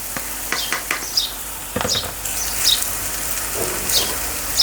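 Washed, drained poha hits a hot pan and sizzles, with a hissing fry and scraping stirs that come in short bursts and then settle into a steady crackle, close and moderately loud.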